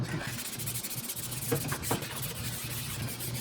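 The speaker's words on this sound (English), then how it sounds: "so that's why I'm using just my hand and sand" Wood edges on a scrapwood sign are sanded by hand, producing a continuous close, gritty rubbing with a few stronger strokes near the middle.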